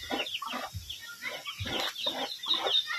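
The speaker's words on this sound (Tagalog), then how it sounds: "Naghahalo yung pato at saka manok." Chickens and ducks mixed together cluck in quick bursts, several birds overlapping at close range, with a busy farmyard feel and no talking.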